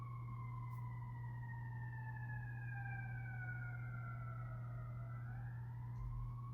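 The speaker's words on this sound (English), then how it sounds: "okay, y'all hear the sirens." Emergency vehicle sirens wail outside, rising and falling in long sweeping tones that drift past at a distance, faint against a steady low indoor hum.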